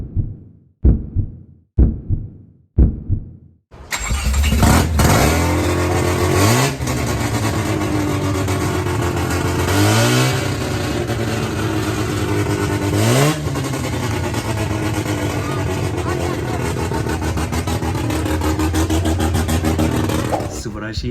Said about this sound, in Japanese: 素晴らしいエンジンになったんだよね。